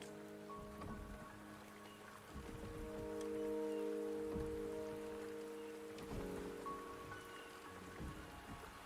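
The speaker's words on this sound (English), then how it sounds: "The rain is subsiding, and the sky will soon clear." Steady rain patters and hisses on surfaces in the game Wuthering Waves, soft and continuous, with faint low tonal music humming underneath.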